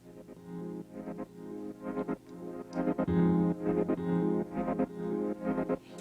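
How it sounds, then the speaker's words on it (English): A nylon guitar preset from the free Foundations plugin plays a soft, rhythmic plucked pattern through a processed, effected tone with a repeating pulse, steady and moderately quiet throughout with no talk. "But I started using Nylon Guitar,"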